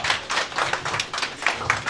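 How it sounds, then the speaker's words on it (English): A small group claps at a tropical fruit festival to honor a fruit growers' association president, a short run of close, uneven hand claps with a tapping quality. "Round of applause for Mark,"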